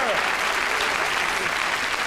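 A game show studio audience breaks into sustained applause, a loud continuous wash of clapping that fills the whole stretch, with faint voices underneath.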